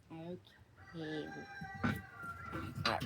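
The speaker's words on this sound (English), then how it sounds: "that rooster." A rooster crows during an outdoor barbecue, where a meatloaf is being smoked. The crowing comes in a few drawn-out calls mixed in with nearby talking.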